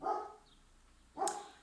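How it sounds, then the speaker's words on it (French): A pet dog gives two sharp barks about a second apart. They are clear and moderately close in a quiet indoor room, and no one talks over them. "mon chien"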